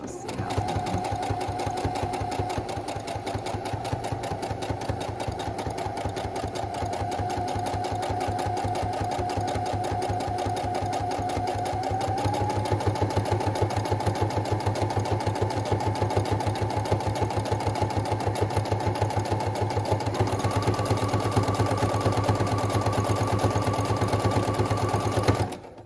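A sewing machine stitches elastic onto a fabric face mask in a steady, close, continuous mechanical whir that shifts slightly in pitch partway through, with a person talking over it.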